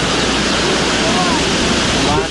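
Big storm-driven sea waves roll onto a Misamis Occidental shore during Typhoon Pablo, a loud continuous roar of surf and wind rumble heard up close under a speaking voice.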